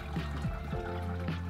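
Liquid plant dye pours through a dishcloth stretched in an embroidery hoop, a close, continuous splashing trickle with a few gurgles.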